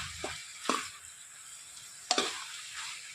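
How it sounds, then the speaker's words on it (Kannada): Capsicum being stirred in a pan with a sizzling tomato mixture: a steady soft sizzle runs throughout, broken by a few sharp scraping stirs of the spoon, close and fairly quiet, with no talking. "ಎಲ್ಲ ಹಾಕ್ಬಿಟ್ಟು ಇವಾಗ ಮಿಶ್ರಣ ಮಾಡ್ಕೊಳ್ಳೋಣ ಈ ಕ್ಯಾಪ್ಸಿಕಮ್ ಜೊತೆ"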